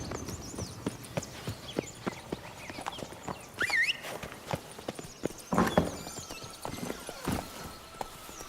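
Geralt's horse Roach in The Witcher 3, hooves clip-clopping steadily at close range in a quick rhythm, with a few louder stamps and snorts along the way, over a soft outdoor ambience and no speech.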